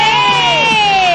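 A Filipino television studio audience from Cavite cheers and shouts in one loud, continuous roar of voices with rising whoops, sustained throughout.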